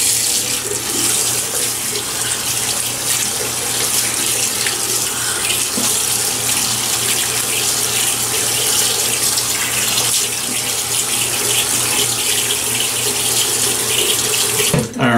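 Water from a tap runs steadily into a sink for a long stretch, a loud, continuous close splashing rush before wetting the face for a shave.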